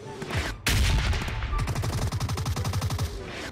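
Dense gunfire in PUBG Mobile, with a DP28, MG3 and Groza in play: a loud blast followed by a long rapid automatic burst of evenly spaced shots, continuous and close.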